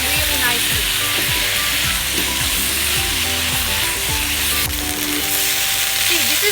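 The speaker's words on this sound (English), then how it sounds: "You just have to keep frying until all the water evaporates and everything." Beef dry stir-frying in a hot pan, a loud steady sizzle with scraping and clattering of the spatula as the meat is tossed, continuous and close.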